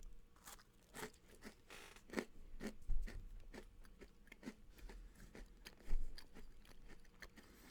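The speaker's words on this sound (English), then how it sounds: "Crunchy cookie." Crunchy Chips Ahoy cookie being bitten and chewed up close, a series of sharp crisp crunches at an irregular chewing rhythm with no talk.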